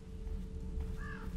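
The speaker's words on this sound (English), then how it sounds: "Look at that crow." A crow caws once from the middle distance in The Evil Within, a short harsh call standing out over a steady low ambient drone.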